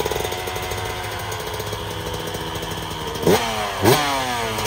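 A 250 dirt bike engine with its stock exhaust idles and putters steadily up close at a supercross track, then gives two short sharp revs near the end, with no talk.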